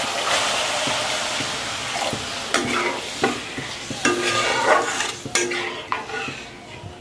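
Water splashes into fried spice masala in a pan for a vegetarian spiny gourd (kakrol) curry in a village kitchen, hissing and sizzling loudly under repeated scraping strokes of a stirring spatula.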